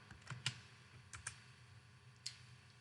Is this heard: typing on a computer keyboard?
yes